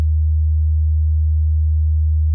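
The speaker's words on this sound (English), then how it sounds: "With all the knobs at 0, we have a sine wave." A steady, pure low sine-wave tone from a Buchla 259t complex oscillator module holds unchanged throughout, loud and constant with no variation in pitch or volume.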